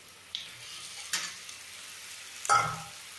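Masala paste frying in a pan for a chana and aloo sabzi as boiled potatoes are stirred in, with a few short sizzling bursts and spoon scrapes against a quiet kitchen background, no talking.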